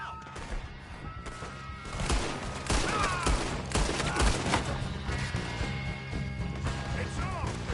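Rapid gunfire and mechanical clatter in a camp shootout in the video game Red Dead Redemption 2, dense overlapping shots with crashes and ringing metallic tones, loud and continuous under game music.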